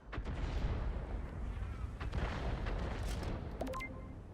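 A heavy tank cannon blast in a video game, a GSR 3301 Setter on the Prokhorovka map, rolls through a constant rumbling roar, with sharp cracks and distant booms mixed into the dense noise.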